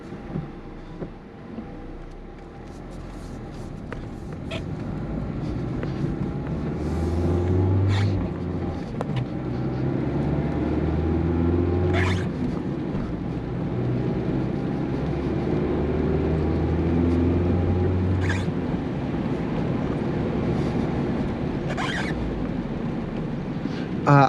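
A 2023 Mazda Miata with a manual transmission drives slowly, engine rumbling low and steady as it rolls forward, with a few light clicks and bumps from the cabin and no talking.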